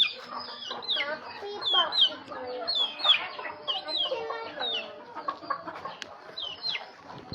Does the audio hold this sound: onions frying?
no